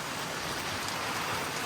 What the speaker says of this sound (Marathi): पाऊस बघा केवढा मोठा आलाय